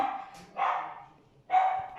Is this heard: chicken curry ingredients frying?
no